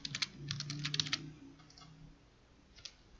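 A computer keyboard is typed on in quick light clicks while a line of Git commands is pasted, then a few more scattered keystrokes follow, close but quiet over a faint low hum.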